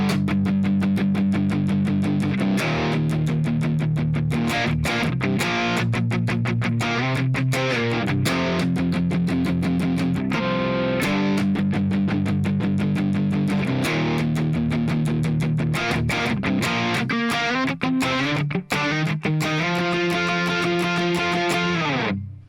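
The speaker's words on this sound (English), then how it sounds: "So altogether, that lead part in the verse sounds like this." Distorted electric guitar playing the verse lead part of a song, a continuous loud run of picked notes with shifting pitches and steady eighth-note rhythm, alone.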